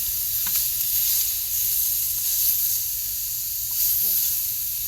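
Onions and ground meat browning in a frying pan in a home kitchen give off a steady, close sizzle with a bright, hissing texture, and a brief faint voice comes in near the end.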